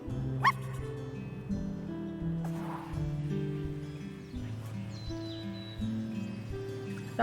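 A dog in the video game I Am Dead gives a few short yips and whimpering barks over gentle background music, fairly quiet and without talk.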